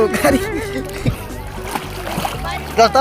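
People swimming and splashing in the Arial Khan river: irregular water splashes and sloshing close by, heard beneath several voices talking.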